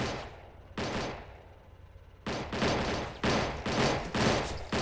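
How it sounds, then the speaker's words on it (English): Pistol or revolver gunfire from tank crewmen in the Army Men: Plastic Wars video game: loud, dense volleys of shots, one burst early, then a pause, then rapid repeated bursts near the end. "it's all the pistols from the tank men. Or revolvers."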